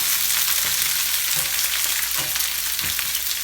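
Onions sauté in olive oil in a pan on an electric stove, a steady close sizzle with a few soft stirring scrapes breaking in at intervals.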